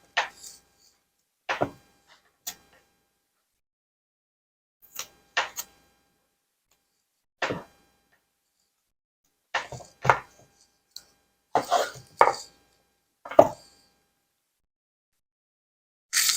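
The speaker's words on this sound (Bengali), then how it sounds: "এখন আমি বেগুনটা কেটে নেই।" A knife chops eggplant on a board in sparse, separate strikes, single cuts and short clusters with silent gaps between them, close and clear with no talking.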